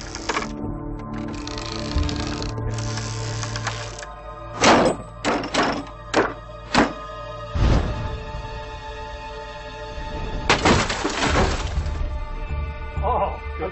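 A reconstructed ancient ballista, of the kind used by Alexander the Great's artillery, is fired from long range, giving a series of sharp cracking thuds and a heavy impact, set under a tonal music bed.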